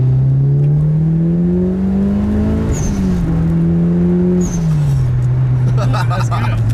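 A Mitsubishi Evo 6 Tommi Makinen accelerating hard on a short straight, its engine climbing in pitch through the gears with brief dips at each shift, loud and close from inside the car.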